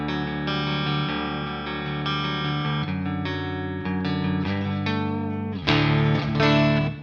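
Enya Nova Inspire carbon-fiber electric guitar played on its neck pickup with a touch of reverb, sustained strummed chords ringing out, close and steady, with a louder accented strum near the end.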